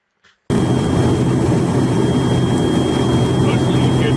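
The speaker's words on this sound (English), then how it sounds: "mostly you hear the airplane" Airplane engine noise from a played video, a loud steady broadband drone that starts abruptly after a brief quiet moment and holds evenly to the end.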